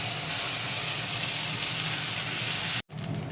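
Ginger and cumin paste sizzling loudly in hot oil, a steady broad frying hiss with a short pause near the end before the sizzle resumes.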